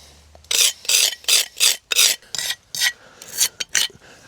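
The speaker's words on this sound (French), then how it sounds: "Alors tu vois là, il y a du joint à gratter." Old sandy lime mortar joints being scraped out of a stone wall on a tobacco drying barn renovation, about ten loud, sharp rasping strokes in a quick, fairly even rhythm, close up, with no talking.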